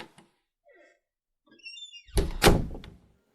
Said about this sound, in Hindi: तभी अचानक बाथरूम से आहट सुनाई दी। दरवाजा खुला।